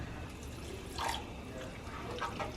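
Water poured into a pot of simmering Guyanese seven curry in a home kitchen: a faint, low-level trickle and splash with a couple of brief pours over soft background noise.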